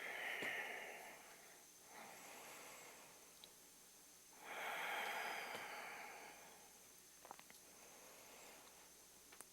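Slow, deep breaths taken in and out during a yoga pose, soft and close, with two longer hissing exhalations standing out against a quiet room.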